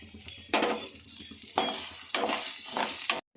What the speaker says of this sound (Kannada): ಅದೇ ತುಪ್ಪಕ್ಕೆ ಹೆಸರುಬೇಳೆ ಹುರ್ಕೊಳ್ಳೋಣ.